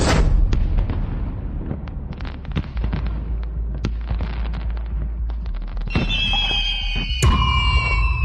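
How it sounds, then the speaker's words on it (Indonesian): Fireworks burst in a quick string of loud booms and crackles, followed by whistling rockets and a final sharp bang, with no talking. "Kenapa langsung nyalain kembang api?"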